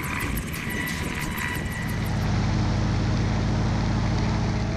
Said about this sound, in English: the takeoff of this helicopter didn't go according to plan.